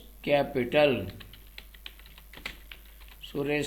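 Quick, light key clicks on a computer keyboard while entering a ledger in Tally Prime, scattered between a voice talking at the start and end.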